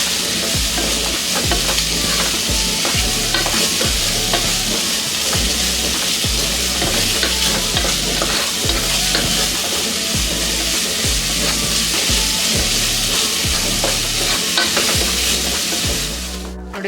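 Spring onion and gram flour fry in oil without water, a loud, unbroken sizzle close by with a steady rhythm of stirring scrapes running through the whole stretch.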